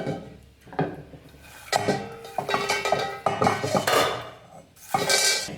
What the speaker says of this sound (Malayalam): ഇനി ഞാനിത് വേറൊരു പാത്രത്തിലോട്ട് മാറ്റുകയാണ്